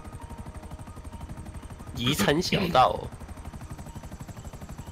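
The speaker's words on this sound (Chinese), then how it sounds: "直升机" A helicopter in Grand Theft Auto V gives a steady, rapid rotor chop that runs through the whole stretch, while people talk briefly over it in the middle.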